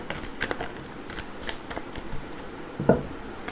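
Tarot cards being shuffled in a quiet room, giving soft riffling bursts spread across the clip and a sharper card snap near the end.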